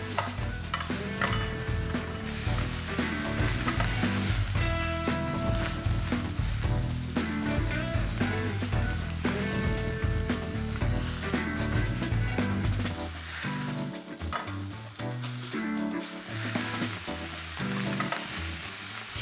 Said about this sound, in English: Now let's sear the sides of the steak quickly and it's ready.